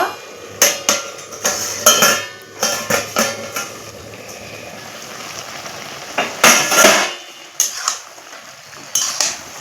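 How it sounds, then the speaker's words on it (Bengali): A pot lid comes off during village-style cooking of Malabar spinach with mustard paste, bringing a close run of loud metallic clanks and scrapes in uneven bursts over a soft frying hiss, with no voices. "এখন আমি ঢাকাটা খুলে নেব"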